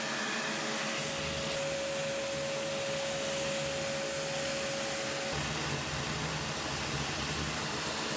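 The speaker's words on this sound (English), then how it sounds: "a wet dry vac, and try and suck all the water out and see how that goes" Wet/dry shop vac sucking water out of a boat engine room through a small hose fitted inside a larger one, a steady unbroken roaring whoosh held at constant level, close by.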